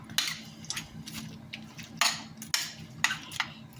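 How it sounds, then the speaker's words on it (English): Sausages and chopped vegetables are stirred in a pan, with irregular scraping clinks of a utensil against the metal and a low steady hum underneath. "I'm going to mix this all up"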